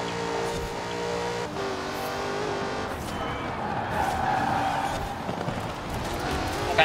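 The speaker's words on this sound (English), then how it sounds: "I can just let the car turn by itself actually by letting off the throttle" Car in Forza Horizon 4 driving hard, engine roaring and revving at a steady loud level with tyre noise, swelling slightly midway.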